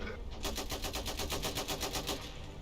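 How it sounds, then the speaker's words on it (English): Heavy machine gun in the Iron Harvest game fires a long sustained burst of rapid, evenly spaced shots, loud and close, alone without voices. "Heavy MG here."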